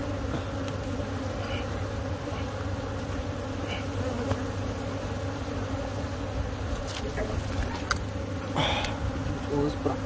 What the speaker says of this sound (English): Got a bee.